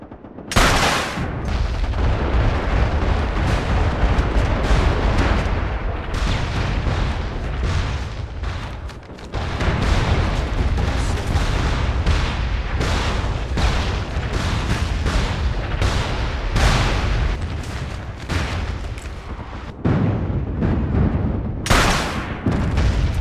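Incoming artillery fire in the shooter MAG, a relentless loud barrage of booms, blasts and gunfire, with dense overlapping explosions and a few brief lulls.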